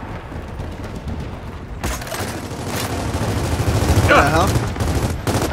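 Rapid game gunfire from Gears of War 4 bursts and crackles throughout, dense and loud, with a brief exclaimed voice cutting in near the end.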